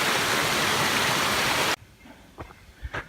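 A waterfall and stream rush loudly along a forest trail on the Three Ridges Loop in Virginia, a dense continuous roar that cuts off abruptly, leaving quiet scattered sounds.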